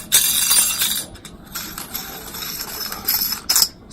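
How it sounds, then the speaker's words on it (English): A door knob being twisted to unscrew it during installation; short metallic clicks and scraping rattles come in bursts, close and fairly quiet, with brief pauses between them. "Next thing, you twist this to unscrew it."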